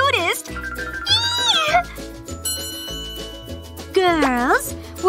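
Cat meows sound as bright rising and falling cries, one at the start and another near the end, over jingly music and busy voices.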